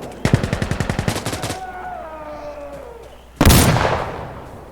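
Rapid automatic gunfire from the Insurgency: Sandstorm video game, a fast burst of about a dozen loud shots, then a tonal lull and a second loud burst near the end.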